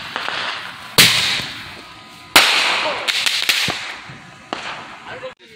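Fourth of July fireworks go off nearby, several sharp loud cracks and bangs scattered over a few seconds, each trailing into a crackling decay.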